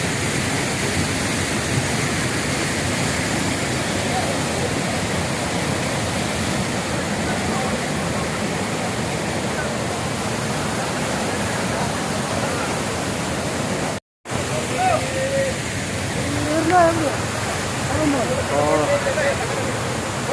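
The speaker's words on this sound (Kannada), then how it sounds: "ಫಾಲ್ಸಿನ ನೀರು ನಮ್ಮ ಮೇಲೆ ಬೀಳ್ತಾ ಇದೆ." Loud, steady roar of rushing water at Hogenakkal Falls, close by with water falling on the listener, filling the whole clip with constant broadband noise and a brief dropout near the end.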